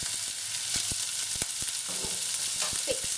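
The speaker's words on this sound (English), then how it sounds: "You can hear the onions sizzling away there." Onions sizzle steadily in a hot pan, a bright continuous hiss broken by occasional sharp crackles and pops.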